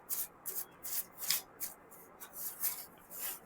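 Tarot cards are shuffled by hand in soft, rhythmic bursts of papery riffling, about two per second, close and quiet with no voices.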